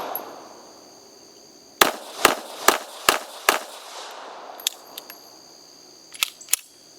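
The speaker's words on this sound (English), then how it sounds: "Alright, we're going to do a little rapid fire" Rapid fire from a Sccy CPX3 .380 auto pistol outdoors, five sharp shots in quick succession, then a few scattered bangs after a pause, with faint echoing tails.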